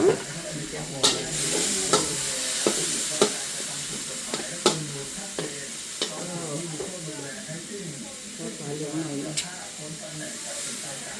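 Water spinach with garlic stir-fried in hot, bubbling oil with fish sauce added, giving a steady close sizzle and hiss broken by sharp scraping clicks of a utensil against the pan, with a voice talking over it.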